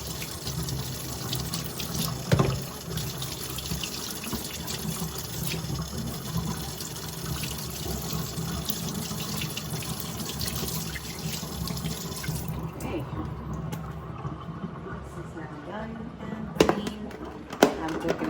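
Cold tap water gushes steadily into a kitchen sink while beef for Vietnamese pho is rinsed in a colander. The constant close rush runs for most of the stretch, then eases, and a couple of sharp knocks follow near the end.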